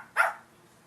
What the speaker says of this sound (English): like to bark when they play with one another